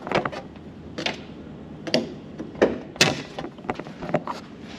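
A Corvette hood, fitted over a swapped-in LS engine, is lowered and pressed down several times, giving a series of dull, close metallic thunks and clunks spaced about a second apart.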